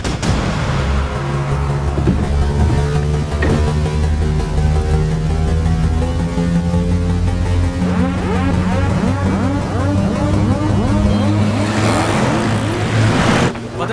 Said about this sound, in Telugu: స్కార్పియో హాస్పిటల్ లోపలికి వెళ్ళకుండా స్ట్రైట్ గా వెళ్తుంది.